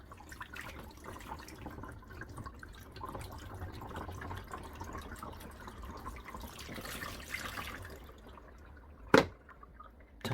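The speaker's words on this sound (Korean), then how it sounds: "두 번째 물도 한번 부어보도록 하겠습니다." Water is poured slowly into an SK magic mini countertop dishwasher, making a soft, steady trickle and splash for about eight seconds, quiet and close, then a sharp click.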